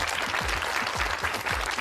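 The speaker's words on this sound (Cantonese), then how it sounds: "俾啲掌聲俾自己先。" A crowd applauds itself at a children's singalong show, with a dense steady wash of clapping from many hands that stays fairly loud and close for the whole stretch, no voices rising above it.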